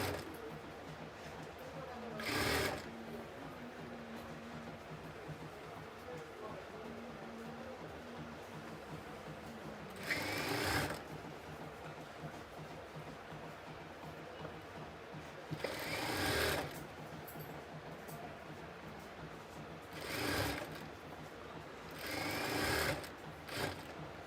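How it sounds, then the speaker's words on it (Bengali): A sewing machine stitches the sleeve and side seams of a kameez together in repeated short bursts of rapid mechanical whirring, separated by quieter gaps while the fabric is repositioned. "দেখেন দুইটাকে একসাথে ধরে মিলিয়ে আমরা সেলাই করে নেব"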